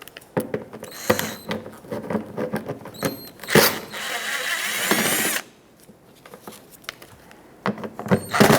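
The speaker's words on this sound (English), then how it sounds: "Let's use a T15 socket and remove all 4 bolts that hold the taillight onto the body of the" A T15 socket backs out the taillight bolts on a 2000-2005 Ford Excursion, with short ratcheting and clicking bursts, a longer whirring stretch in the middle, and light tool handling throughout.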